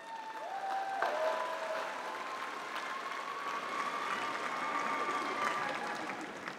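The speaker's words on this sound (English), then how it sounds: "Give them a round of applause" At a summer graduation ceremony, the audience breaks into a long, even round of applause that swells slightly and holds steady, with faint tonal sounds behind it and almost no speech.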